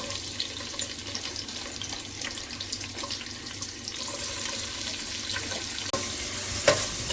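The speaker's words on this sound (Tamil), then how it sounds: "வெங்காயம் நல்லா செவந்து வரணும், அது வரைக்கும் நல்லா வதக்கி விடலாம்" Thinly sliced onions fry in oil with biryani spices for a mushroom biryani. A continuous hiss runs under occasional light stirring and scraping strokes, with a sharp clink near the end, close and moderately loud.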